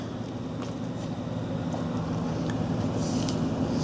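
An Onan 305 CCK generator engine runs at a steady idle, a constant low droning hum with a faint rattle on top, close and unbroken throughout.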